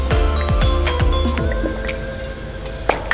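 A spoon stirs a slurry of cornstarch or potato starch and water in a small bowl, making wet squishing swirls and light clinks against the side. Near the end, a couple of sharper taps sound.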